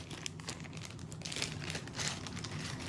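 Plastic bag of wooden meeples from The White Castle board game crinkling steadily as pieces are pulled out by hand, close and fairly quiet, with brighter rustling bursts throughout.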